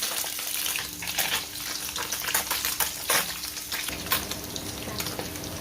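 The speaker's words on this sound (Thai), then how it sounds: "พอน้ำมันร้อนแล้วก็ รีเป็นไฟกลางนะคะค่อยๆทอดไปจน กรอบตามที่เราชอบได้เลยค่ะ" Snakeskin gourami deep-frying in hot oil over medium heat, a steady close crackling sizzle with bursts of spitting and popping throughout, no voices.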